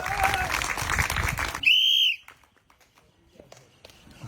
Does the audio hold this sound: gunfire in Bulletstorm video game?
no